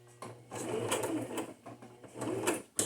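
A sewing machine back-stitching through paper for a junk journal, with a close, steady mechanical whir in several bursts and short pauses between them.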